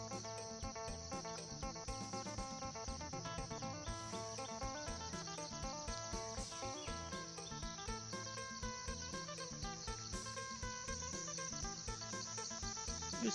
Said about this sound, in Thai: ส่วนพี่น้องจักจั่นกำลังออกนะครับเนาะเสียงกำลังดังอยู่นี่นะครับ